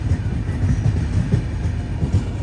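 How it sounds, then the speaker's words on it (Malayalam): Millennium Express pulling out of Ongole railway station after a short halt, a steady low rumble of the moving train with faint rhythmic clatter of the wheels, continuous and fairly close. "2 മിനിറ്റത്തെ ഹോൾട്ടിന് ശേഷം ഓങ്കോൾ റെയിൽവേ സ്റ്റേഷനിൽ ഇതാ ട്രെയിൻ എടുത്തിരിക്കുകയാണ്."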